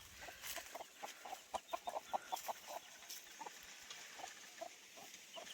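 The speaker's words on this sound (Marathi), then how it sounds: "पण इकडे कोंबडा आहे" A rooster at a village farm gives a series of short clucks, fairly faint and a little distant, with no talk over it.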